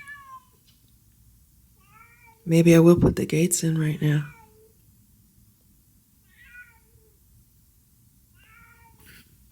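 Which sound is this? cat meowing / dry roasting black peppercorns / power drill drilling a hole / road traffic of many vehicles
cat meowing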